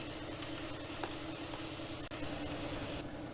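Spinach gnocchi dropped into a pot of boiling water on medium heat, heard as a steady close bubbling and hissing with a couple of faint soft plops, no voices.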